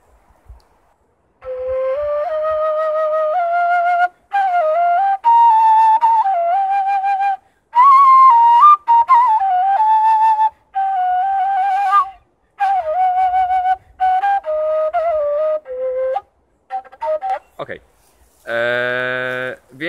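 A Bulgarian kaval, the long end-blown folk flute, plays a breathy, sustained melody in phrases with short pauses, close and clear, ending with a brief higher held tone.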